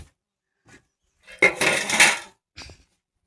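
Feed vessels are handled in an animal shed. Metal pots clatter and scrape in one loud burst lasting about a second, close up, with softer knocks just before and after.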